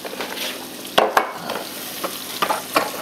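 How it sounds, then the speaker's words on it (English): Steady crackling sizzle of chicken frying in a pan, with a few sharper clinks and scrapes, like a utensil stirring, popping up over the hiss. "So that's been sizzling away for a while"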